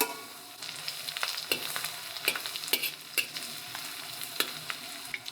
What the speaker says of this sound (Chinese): 葱蒜再进锅略微爆香